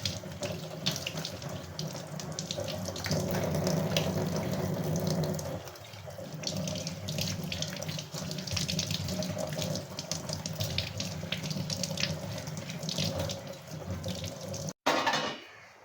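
Crabs scrubbed and rinsed under a running kitchen tap, a strong continuous gush of water with scrubbing and splashing that dips briefly midway and cuts off near the end.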